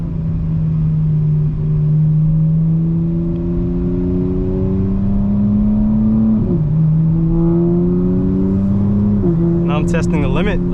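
A 2025 BMW M4 Competition xDrive engine drones loud and close in rear-wheel drive, its pitch climbing slowly, dipping with a gear change near the middle and again toward the end.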